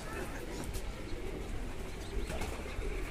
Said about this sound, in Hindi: कबूतर ऊपर नीचे हो रहे हैं दाने खाने के लिए